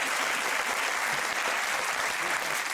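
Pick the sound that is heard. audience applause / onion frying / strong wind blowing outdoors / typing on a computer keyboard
audience applause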